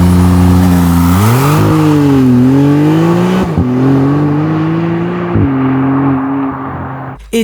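A Maserati MC20 supercar launching hard in automatic mode, its engine building boost: a loud, close roar climbs steadily in pitch, dips briefly at each gear change, then eases off at the end.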